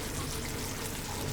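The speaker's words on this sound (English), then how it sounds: "I need to add some more water there." Water pours steadily into a simmering pumpkin curry, a continuous broadband trickle and stream lasting the whole moment with no voices.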